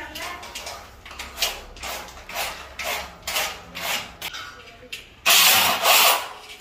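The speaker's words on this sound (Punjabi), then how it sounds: "ਹਰ ਚੀਜ਼ ਨੂੰ ਡਰਿੱਲ ਦੇ ਨਾਲ ਇਹਦੇ ਵਿੱਚ ਸਕਰੂ ਕਰ ਦਿੱਤੇ ਜਾਣਗੇ" A power drill drives screws into the metal frame of a false ceiling structure, repeated whirring bursts with rasping bites, ending in a louder, harsher burst as a screw tightens.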